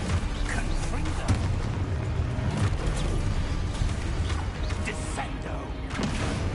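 Confringo blasting spell exploding in a video game, with dense rumbling blasts and crashing impacts layered over continuous battle noise, loud and busy throughout, while voices shout in the background.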